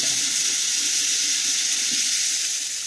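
Hot water runs steadily from a sink tap into a foaming hand wash dispenser bottle, a continuous broadband hiss of flowing water held close and fairly loud, with no talking.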